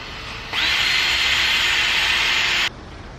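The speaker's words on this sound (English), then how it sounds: "I'm gonna need to make some pilot holes down here for some screws to attach that." A power drill bores pilot holes for screws into a wooden disc, one steady close whine lasting about two seconds before stopping abruptly.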